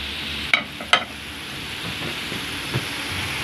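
Potatoes being mixed in very hot frying oil, two sharp utensil clinks near the start over a steady close sizzle that continues with a faint later knock, no talk.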